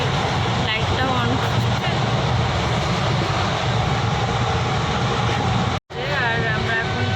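Steady rumble of a moving passenger train from Bolpur toward Sealdah, heard from inside the carriage, loud and continuous with rattling and clatter throughout, a brief dropout near the end, and people talking faintly in the background.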